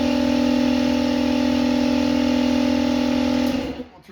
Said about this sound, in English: that's my compressor